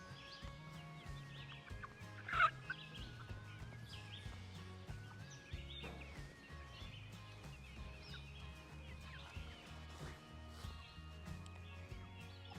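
A flock of Cornish cross chickens calling continuously, with overlapping clucks and gobbling-like cries, moderately close, one louder call standing out early.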